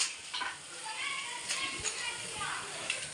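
Ginger paste fries in hot oil while a ridge gourd palya is made, making a soft sizzle with light stirring and pan clinks under a person talking.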